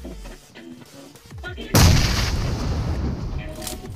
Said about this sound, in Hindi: ग्रेनेड डालो।